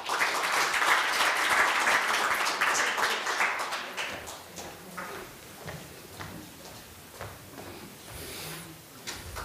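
An audience at a Korean political forum applauds to welcome a lawmaker, a full round of clapping that swells for a few seconds, then thins to scattered, fading claps with faint murmurs.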